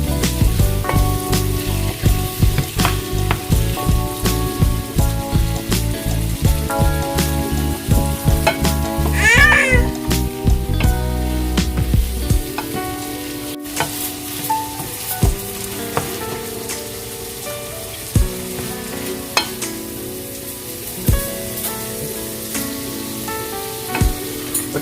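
Cajun shrimp with shells on cooking on medium-high heat for New Orleans style BBQ shrimp, a steady loud sizzle and frying hiss with occasional stirring clatter and a tonal background running throughout.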